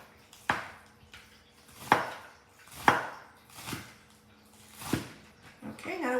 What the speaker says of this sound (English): Now let's chop up our green onions